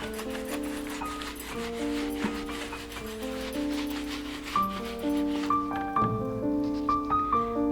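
A hand rubs across an abacus from right to left to clear the beads, making soft continuous scraping with steady tones in the background.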